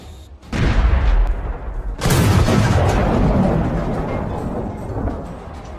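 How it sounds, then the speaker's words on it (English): Gunfire from Ukrainian troops in a war zone booms in two heavy bursts, a sharp onset followed by a longer rumbling fusillade that slowly fades, distant and echoing. "the far group is firing"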